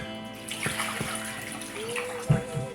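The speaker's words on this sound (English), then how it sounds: "Give them a little rinse." Tap water runs and splashes over dried lima beans being rinsed, a steady nearby stream with a few sharper splashes and clunks toward the end.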